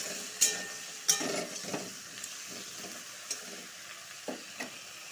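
Vegetables sizzle quietly in a pan while a utensil stirs them, with sharp metallic clinks and scrapes at irregular intervals over the soft frying hiss.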